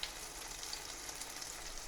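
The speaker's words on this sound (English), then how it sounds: "we're frying in lard as well" Seeded beef tomato slices fry in lard, a soft steady sizzle with fine crackling throughout, quiet and close, with no talk.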